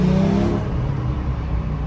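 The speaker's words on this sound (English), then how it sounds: "you can already hear it, like the valves opening up" BMW E30 engine revs up in a short, close pull, rising quickly and then settling into a strong, steady roar.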